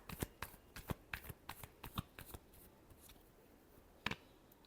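Tarot cards are shuffled by hand close up in a quick run of crisp riffling snaps, pausing briefly before a final sharp flurry near the end.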